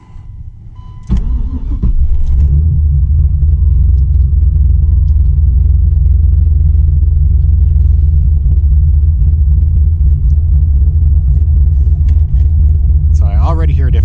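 Turbocharged Gen 3 LS engine in a car with a 2-step tune, long-cranking and then stumbling to life into a loud, steady low rumble held throughout, with a brief higher whine near the end.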